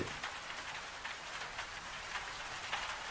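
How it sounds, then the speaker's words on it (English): Soft, steady rain patters on a Scottish farmhouse roof, a dense even hiss with occasional louder drops, quiet and without voices. "The rain on the roof of the farmhouse is a different sound to rain on glass."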